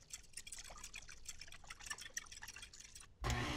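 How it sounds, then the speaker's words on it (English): Two whole eggs being lightly whisked in a bowl for quiche dough, a quick run of soft, rapid taps and light clicks at close range, ending in a sudden louder burst. "I'll just lightly whisk the eggs."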